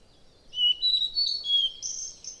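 Gouldian finches give thin, high chirps and short twittering calls in quick bursts. The birds sound fairly close against a quiet background, with no voices.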